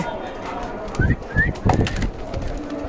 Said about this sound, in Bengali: খাবারের জন্য সবগুলো উড়াউড়ি করছে সবাই সবগুলো কবুতরই ক্ষুধার্ত